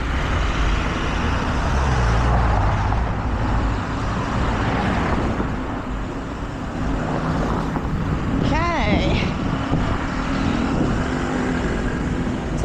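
City street traffic in Cape Town's central business district in the rain, a steady wash of car and bus engine noise with passing vehicles and a brief horn-like tone, with people talking nearby.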